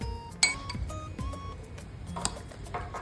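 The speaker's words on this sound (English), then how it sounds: "use a spoon to remove all the mixture from the knife" A metal spoon clinks and scrapes against a food processor knife as the cabbage roll filling mixture is cleared off, giving light, irregular ticks and taps with a couple of brighter clanks.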